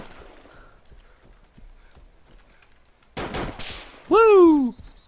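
Video game gunfire: a loud burst of rapid shots near the middle, followed by a sharp descending whistle-like tone, with faint talk and noise earlier.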